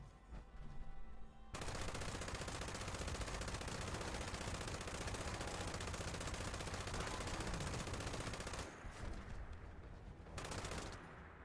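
Rapid, sustained heavy-weapon gunfire from a high fire-rate legendary gun in Fallout 76, a dense, loud continuous burst running nearly the whole time after a brief quieter start, with short pauses near the end.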